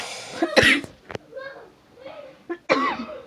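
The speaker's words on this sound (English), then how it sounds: "Sorry about that cough." A few sharp, close coughs break out, spaced irregularly, with faint throaty sounds between them.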